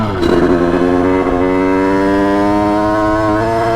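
A Bidalot 50WR 50cc motorcycle engine with a 28 carburetor runs close up, blipping briefly then settling into a steady, loud buzzing idle with a strong whining tone, no voices.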